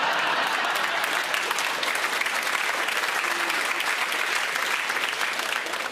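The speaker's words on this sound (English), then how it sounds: "You know why you're clapping, right?" Sustained audience applause from a large crowd at a speaking event in Britain, steady dense clapping that fills the whole stretch at an even level, close and loud with no voice over it.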